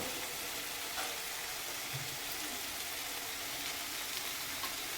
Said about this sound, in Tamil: தக்காளி நல்லா வதங்கிருச்சு.